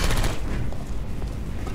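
Rapid turret gunfire in a Portal-style video game test chamber, a dense, loud burst of shots that runs steadily through the whole clip with no talk.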